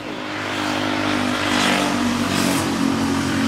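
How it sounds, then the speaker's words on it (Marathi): Traffic on the Mumbai–Goa highway near Umarde: a steady, loud roar of passing cars and engines, swelling slightly as vehicles go by, with no talk. "जो मुंबई गोवा हायवे आहे ना"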